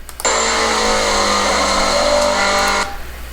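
A Scion FR-S on a track drops from third to second gear, its engine note rising in a steady loud harmonic whine that holds for nearly three seconds before cutting off.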